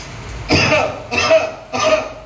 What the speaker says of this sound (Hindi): ऐसा खांसना है